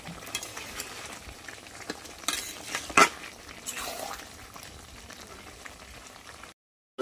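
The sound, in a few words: stirring and braising meat in a pan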